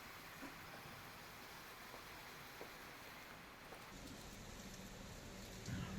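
Steady rain falls in Jaisalmer after a spell of intense heat, a dense, even hiss of drops on surfaces that holds for several seconds and swells a little near the end, with no voices.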